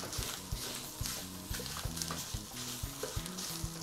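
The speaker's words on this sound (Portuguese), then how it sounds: "Uma boa linguiça aqui. Com a colher a gente vai soltando ela, né, e abrindo," Linguiça sausage is broken up and stirred with a spoon in a pan, giving a soft background sizzle with regular clinking knocks of the spoon. Music plays throughout.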